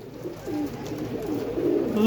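Low, throaty cooing from pigeons kept by a breeder rolls on in short overlapping phrases, close and steady, with a voice faintly present.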